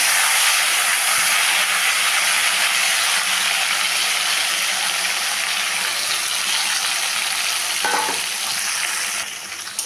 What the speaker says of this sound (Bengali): তেল গরম করে নিলাম, দিলাম একটু গরম মশলা ফোড়ন, দিয়ে দিলাম এখন ম্যারিনেট করা মাংস।